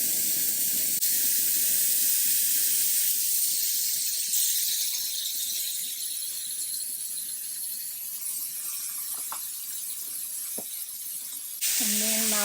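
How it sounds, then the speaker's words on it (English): Bacon pieces sizzle in a hot pan, a loud, continuous bright hiss with occasional pops and a clatter near the end. "And now I'm ready to cook the bacon."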